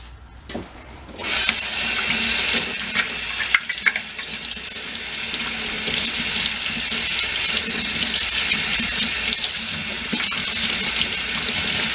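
A garden hose sprays water onto a part from a vintage mini bike being rinsed, a loud hissing, splattering stream that starts after a quiet moment and continues steadily.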